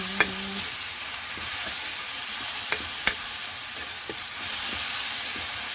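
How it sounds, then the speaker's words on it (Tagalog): Mushrooms sauté in a hot pan with a steady, close sizzle and hiss, broken by a few sharp clicks and scrapes of stirring. "Ginisa nga uhong, lamit kaayo."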